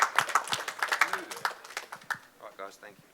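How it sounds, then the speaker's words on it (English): Scattered clapping from a boxing post-fight press conference audience, quick uneven claps tapering off as a voice talks over them near the end. "Round of applause, Ali Akhmedov and Israel Madrimov."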